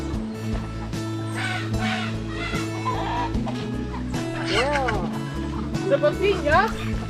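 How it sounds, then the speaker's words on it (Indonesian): Chicken clucking from a fowl on a coffee farm in Latimojong, heard as several short calls and a squawk in the middle and near the end, mixed with people talking and background noise. "Ayam."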